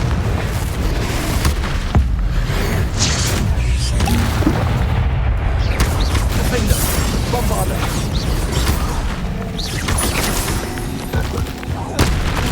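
Confringo fire-blast spell cast in the Hogwarts Legacy game, a dense, continuous run of booming blasts and crackling impacts with magical whooshes, loud and cluttered throughout, with voices mixed in.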